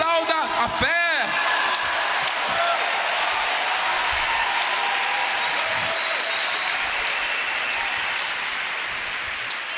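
A church congregation at a pastor's service bursts into loud, sustained applause that fills the room for about ten seconds, with a brief voice and a shout near the start.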